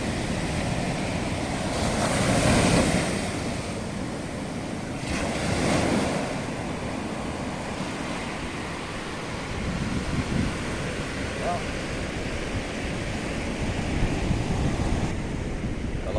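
Sea waves roll onto Katapiang beach in Minangkabau, a continuous loud surf wash that swells at intervals, with gusting wind buffeting the microphone throughout.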